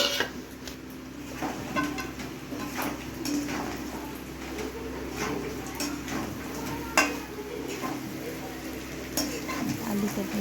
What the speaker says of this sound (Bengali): ভাজি করে ভাজছি চিকেনটা এই যে বন্ধুরা চিকেনটা কষা হয়ে এসছে আলু দিয়ে দেবো